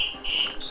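A high, steady electronic alarm tone from Assassin's Creed Rogue, warbling slightly and dipping briefly once, sounding in the background with no voices.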